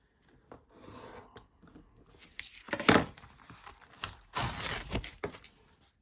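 Scissors snip through an old Action Man Colditz cardboard box in several close, irregular cuts, with rasping pauses between.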